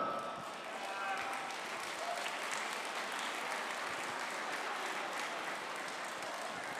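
A large audience at a business hall of fame gala claps steadily to welcome the master of ceremonies, a dense, sustained wash of applause heard from within the room.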